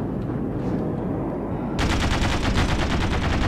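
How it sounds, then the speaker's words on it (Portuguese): Rapid automatic gunfire from the shooter game Shattered Horizon rattles loud and dense, a steady rumbling bed that turns into a sharper, faster burst of shots about halfway through. "Vou ignorar estes tiros"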